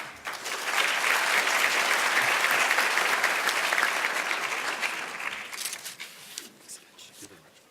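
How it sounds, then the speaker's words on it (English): Conference audience applauding at an opening plenary session, a dense sustained wash of clapping that swells quickly, holds steady for several seconds, then thins out into scattered claps near the end. "A round of applause, please, for Jorge Maia"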